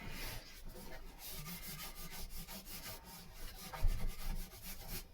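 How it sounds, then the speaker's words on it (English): Steady rasping of sandpaper rubbing the end of a wooden piece being shaped to fit, close and fairly quiet with a continuous back-and-forth texture. "the only thing I can do is sand the ends off"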